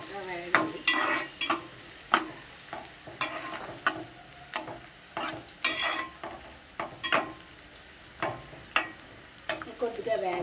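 Onions frying in a pan for a Telugu-style fish curry, with repeated stirring scrapes and clicks over a steady, moderate sizzle, close by and with no talking.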